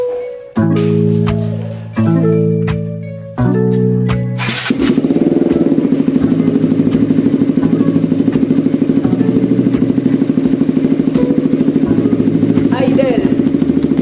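KTM Duke 200 with SC Project exhaust and dB killer, three short blips from the engine, then a steady, loud, close idle with a fine rhythmic putter.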